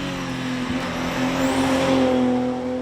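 A 2JZ-engined car passes near a wall, its engine giving a steady droning tone that swells a little as it goes by, heard alone without talk.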